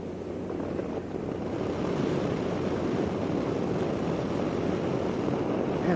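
A motorcycle on a ride, with a steady low rumble and constant buffeting wind noise that holds even and unbroken throughout, no voices.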